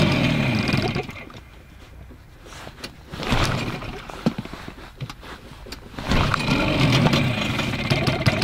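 Chinese outboard boat motor on a fishing trip, pulled over and sputtering to life with uneven bursts, briefly dropping off, then catching and running at a steady idle nearby.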